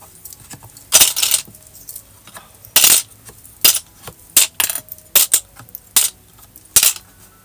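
Metal clips are pulled one by one off a small paper-covered gift box, giving a series of sharp clicking, jangling snaps spaced irregularly in a quiet room.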